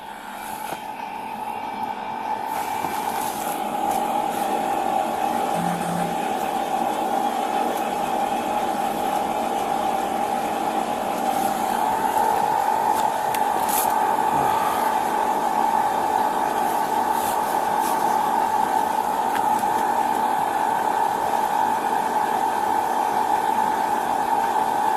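Car air conditioning blowing steadily after being switched on, a continuous even whoosh with a tonal hum that holds at a constant level for the whole stretch inside the vehicle, with no talk over it.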